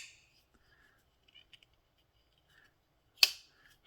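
Twosun TS373 titanium folding knife flipping open, with faint small mechanical ticks followed by one crisp, sharp click as the blade locks, in an otherwise quiet room.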